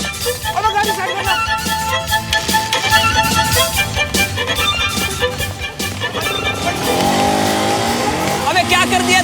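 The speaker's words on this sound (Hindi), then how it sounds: "अब गाड़ी स्टार्ट करना।" Car engine revving and driving off under loud music, with tyre noise and rising engine pitch toward the end.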